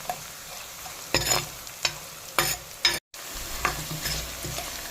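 Spices for a sardine curry fry in a pan with a soft continuous sizzle, broken by several sharp scraping stirs of a spoon against the metal, heard close and alone.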